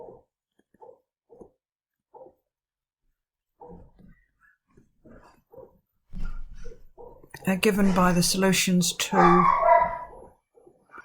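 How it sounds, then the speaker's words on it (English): A pet dog barks loudly in a home near a study during a maths lecture, a dense run of barking in the last few seconds after a man's quiet, intermittent speech. "that was my dog barking, not anybody screaming."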